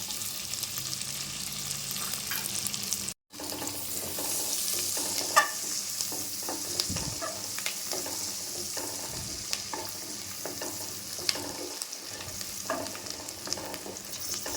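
Chicken with ten crushed garlic cloves and four green chillies being stirred in a hot pan, giving a continuous close frying hiss with occasional spoon scrapes and clinks, with no talk.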